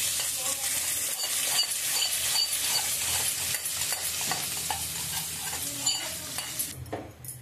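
Urad dal and curry leaves roast in hot oil for rice, a steady close sizzle with scraping stirs throughout, fading slightly at the end.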